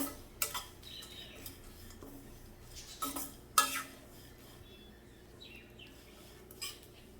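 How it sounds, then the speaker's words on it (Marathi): Dry fruits roast in a pan as a spoon stirs them, making sparse, soft scrapes and a few sharp clinks against the metal over a quiet background. "भाजून घेते हलकासा कलर बदलेपर्यंत आपल्याला परतून घ्यायचं आहे"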